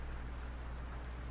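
Steady rain falling, a soft continuous hiss with a low rumble and no distinct drops, quiet and unbroken throughout.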